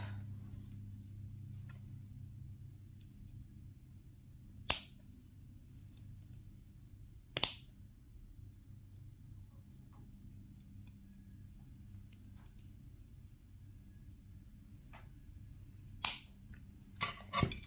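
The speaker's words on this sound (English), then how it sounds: "then we will cut the excess off." Three sharp, isolated snips from cutters trimming excess wire off a handmade beaded plant, spaced several seconds apart over a quiet low hum.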